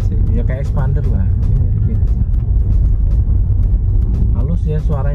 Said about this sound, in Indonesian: Halus ya suaranya mesinnya.